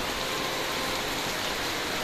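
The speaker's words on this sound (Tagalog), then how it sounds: "At naulan mga kaibigan" Rain falls steadily outdoors past a grandmother's house with garden plants, a dense, even wash of hiss with no breaks.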